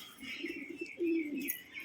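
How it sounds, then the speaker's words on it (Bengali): A red Giribaz pigeon coos close by, low throaty coo phrases rising and swelling, with a brief light chirp and some faint flutter behind it and no talking. "এটা লাল পায়রা, লাল গিরিবাজ।"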